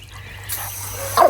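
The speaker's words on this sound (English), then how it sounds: "he's barking uncontrollably" A dog gives a short, sharp bark up close, following a brief whiny yelp; no one speaks.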